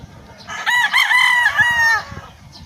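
A rooster on a farm crows once, loud and close, over a soft bed of chickens clucking in the background.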